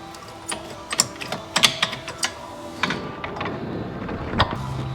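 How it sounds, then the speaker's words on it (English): A flathead screwdriver pries a brake caliper off its mount, giving a close series of sharp metallic clicks and clanks with a grinding scrape near the end and no talking. "And we're going to pry it off like this."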